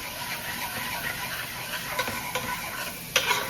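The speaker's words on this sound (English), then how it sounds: "So I got on my onion garlic mixture. We got that going." An onion and garlic mixture frying in a pan for shrimp curry gives a soft, steady sizzle, with a few faint utensil clicks and taps near the end.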